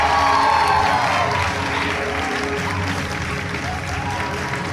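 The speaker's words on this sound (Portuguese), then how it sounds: "Eu peço os aplausos para a nossa convidada, doutora Alessandra dos Santos." Live studio audience applauding an invited guest, a psychologist, on a Brazilian broadcast; sustained dense clapping with a few cheers runs loud and steady throughout, fading only slightly toward the end.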